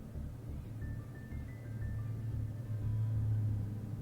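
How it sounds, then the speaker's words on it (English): A loud car passes outside, its low rumble swelling gradually and growing heavier toward the end, muffled as if heard through walls. "There's another car outside."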